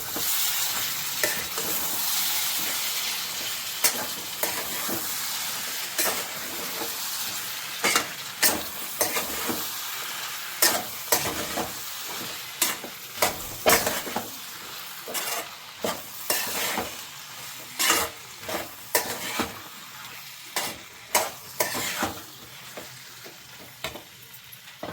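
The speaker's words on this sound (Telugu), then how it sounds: "శనగలు వేసేసుకున్నాను కదా, ఇప్పుడు మనం ఒకసారి కలుపుకుందాం" Boiled chickpeas stirred in a pan for a chole masala curry, a spoon scraping repeatedly in an uneven rhythm over a steady frying sizzle, close and clear with no talking.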